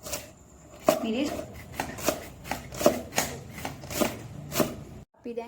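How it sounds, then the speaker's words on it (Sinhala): A knife chops carrots and leeks on a board for kottu, in a run of seven or eight sharp, evenly spaced strikes. The chopping is close, with low background noise and no talk. "අපි දැන් කපන කොටන වැඩ ටික ඉවරයි."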